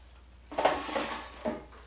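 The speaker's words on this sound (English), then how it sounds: "now then I'm going to put my batter in my pans" Zucchini bread batter goes into baking pans in a home kitchen, giving a few soft clinks and scrapes of utensil against pan in two short bursts, close and quiet, with no talking.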